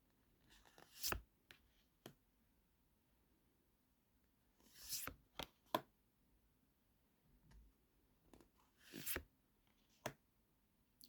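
Light Seers Tarot cards by Chris-Anne being flipped through by hand, a few soft separate riffles and slaps of card stock spaced across a quiet room, close and faint, with no talking.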